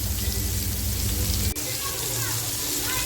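Sardines frying in a pan without any rava or rice-flour coating give a steady, dense sizzle throughout, with a brief dip partway through.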